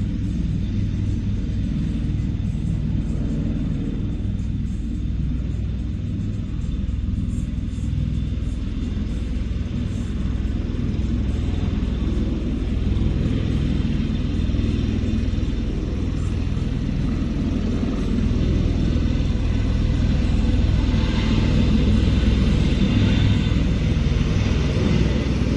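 An aircraft taking off from an airport, heard from nearby as a steady, loud low roar and rumble that holds for about 25 seconds and swells slightly near the end, with no speech.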